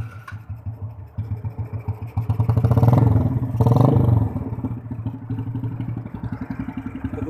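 A modified Yamaha Jupiter Z motorcycle, styled as a mini Harley, idles with a close, pulsing, loping exhaust beat, then is revved twice into louder swells before settling back to a steady chug.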